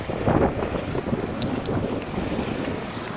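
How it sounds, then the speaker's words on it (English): A breezy day outdoors near Corolla Drive and Tuna Street brings a steady wind that rumbles and buffets the microphone throughout, with a couple of faint high clinks mixed in. "It's a little bit of a breezy day today"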